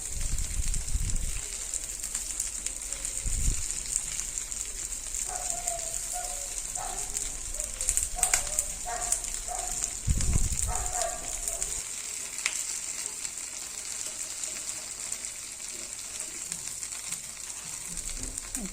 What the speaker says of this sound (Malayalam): അതുകൊണ്ട് ലോ ഫ്ലെയിമിലിട്ട് നമുക്ക് ഇതൊന്ന് തിരിച്ച് മറിച്ചിട്ട് ഫ്രൈ ചെയ്തെടുക്കാം